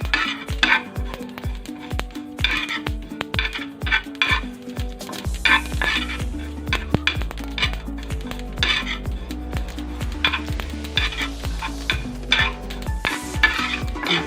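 Masala dry-roasting in a pan without oil for a spicy Kolhapuri mutton dish: a spatula scrapes and knocks against the metal in a fast, steady rhythm, loud and close, with a faint sizzle underneath.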